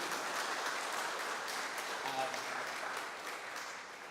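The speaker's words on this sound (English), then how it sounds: "If we could just do a quick round of applause for appreciation for them." A quick round of applause from an audience at an MTA training center grand opening, a steady dense clapping wash that holds for the whole span with a brief voice briefly over it.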